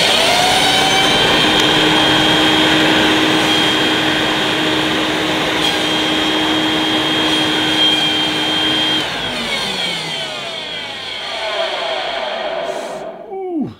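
An Electrolux Turbo 2 Super upright vacuum cleaner runs with a loud, steady motor whine and airflow roar for most of the stretch, then its pitch shifts and falls away near the end as the motor winds down.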